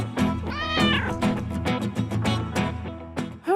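Cartoon cat meowing loudly and repeatedly over lively animation music, with bright drawn-out calls rising and falling through the whole stretch.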